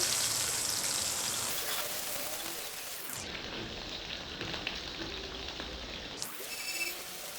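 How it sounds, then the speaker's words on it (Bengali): Eggplant slices frying in hot oil in a pan, a steady crackling sizzle like light rain that dips briefly midway and then returns, close and continuous with no talk. "আমি বেগুনটা খুব ভালোভাবে একটু ফ্রাই করে নেব"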